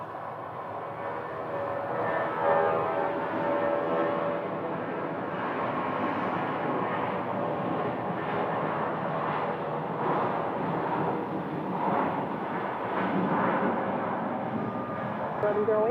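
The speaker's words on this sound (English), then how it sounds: "we have a United Airbus about to be on the roll" United Airlines Airbus jet on its takeoff roll at Phoenix, a sustained broad engine roar at middle distance that holds steady throughout, with a voice talking over it.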